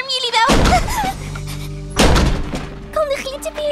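In an animated children's show, a door bangs open with two heavy, close thuds a couple of seconds apart, amid lively cartoon voices talking.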